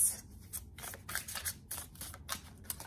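Tarot cards being handled and laid out: soft, crisp papery flicks and swishes come in a quick irregular series. The sound is faint and close, with nobody talking.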